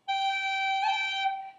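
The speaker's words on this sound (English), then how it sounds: "Then you're going to do a G pip like this." A single sustained note on a practice chanter or pipes in the G position, with a quick G pip grace note flicked in partway through before the note continues steadily and fades, played alone.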